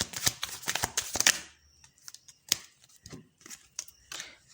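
Tarot cards shuffled by hand in a quiet room, a dense burst of riffling and flicking followed by a few softer, separate card snaps as cards are drawn, close and clear.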